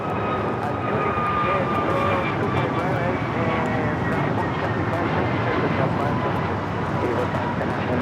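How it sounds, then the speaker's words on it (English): An American Airlines A321neo jet takes off from LAX toward Philadelphia, its engines a steady broad roar heard from a distance, with a voice talking over it. "2415 taking off to Philadelphia on the A321 Neo"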